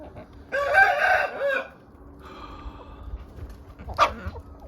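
A young rooster crows loudly nearby, followed by softer hen clucking and a short sharp call from the poultry.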